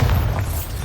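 Bombarda blasting spell exploding in Hogwarts Legacy, a single deep booming blast that fills the short moment and then fades, loud and close.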